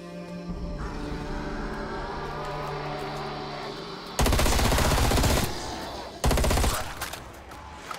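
Call of Duty Die Machine gunfire: two loud bursts of rapid automatic shots, each lasting about a second, over a background of game music and ambience, with some talk-like sound earlier.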